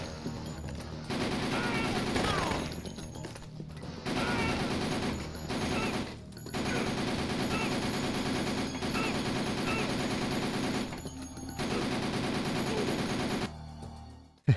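Long bursts of SMG fire in Dead Rising, rapid automatic rattling broken by short pauses, loud and continuous through most of the stretch.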